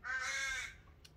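A crow gives a single drawn-out, harsh caw near the microphone, with a faint click at the end and no voices.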